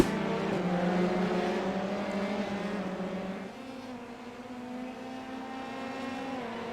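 Dallara F3 race cars at Summit Point Raceway, a loud, high engine drone with harmonic tones held at speed, dropping in pitch at a gear change or as a car passes, then steady again.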